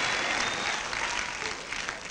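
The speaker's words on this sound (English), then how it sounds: "Give him another round of applause, John Terilli" Audience applause for a guest poser at a 1993 NABBA South Australia bodybuilding show, a short burst of dense, even clapping from a large crowd, heard at moderate volume.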